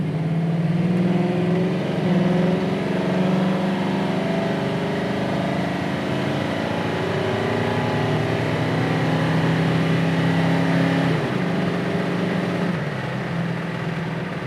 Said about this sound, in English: But green light, we'll run it through a couple gears.